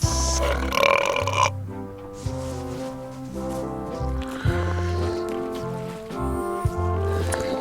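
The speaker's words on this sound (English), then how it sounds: "They're excellent for burping contests." Cartoon pirates hold a burping contest in Return to Monkey Island, long gurgling belches rolling on in a loose rhythm over light game music, loud and close.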